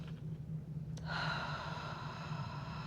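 A long, full breath pushed out through the mouth as if fogging a window, a soft airy rush that starts abruptly and holds steady for nearly two seconds, close to the ear, with no talk.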